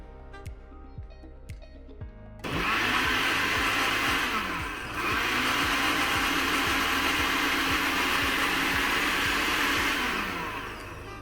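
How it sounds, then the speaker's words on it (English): After a couple of quiet clicks, a blender mixing an Amarula Dom Pedro drink whirs loudly into a steady high-pitched grinding drone, dipping briefly once before running on and tapering off. "put this on the blender, get it all mixed together"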